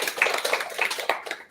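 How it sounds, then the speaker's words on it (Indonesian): A small audience at a school student-council candidates' podcast claps: a quick, dense patter of hand claps lasting about a second and a half, fairly close, with no voices. "Tepuk tangan dulu."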